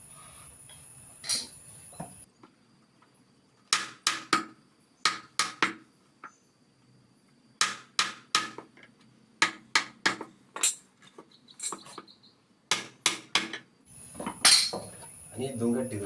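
A chisel is struck into wood while carving a kavadi platform, giving bursts of sharp, ringing taps in quick clusters separated by short pauses, close and fairly clear.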